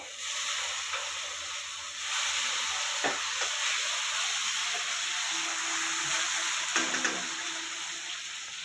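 Tomatoes go into browned onions frying in a pan, producing a continuous bright sizzle with a few soft clinks and stirring knocks scattered through it.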